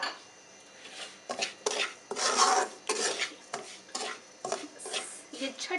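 Semolina being dry-roasted in a pan for a quick barfi-style halwa, with a spoon repeatedly scraping and stirring against the metal in uneven bursts, close and moderately loud, no voices.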